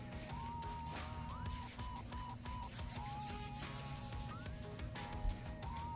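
Hands rub together with sanitizer in soft, continuous friction strokes close to the microphone while a steady mechanical hum and faint intermittent tones run underneath.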